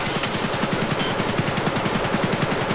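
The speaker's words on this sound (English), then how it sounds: "The bullets are still going off." Rapid automatic gunfire in the shooter game Escape From Tarkov, a steady stream of closely spaced shots rattling on for a few seconds at moderate loudness with no talking.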